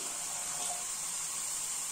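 Water runs steadily into a pan for a couple of seconds before kale is steamed, a soft continuous splashing trickle with no voices.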